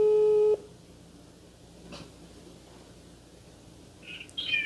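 A steady telephone ringback tone sounds loud at the start as an outgoing call is placed, then cuts off into quiet line hiss with faint chirps near the end.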